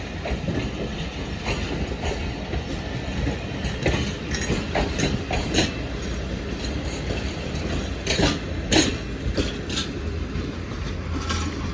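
A crowded passenger train at Pano Aqil rolls past steadily, with continuous rumble and rhythmic wheel clatter over the rails, plus occasional squeals and bangs from the cars.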